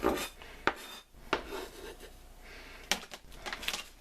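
Knife chopping and mincing garlic on a cutting board for a vegan yaki soba sauce, giving a handful of sharp close taps and scraping clatter at irregular intervals, with quiet pauses between strokes.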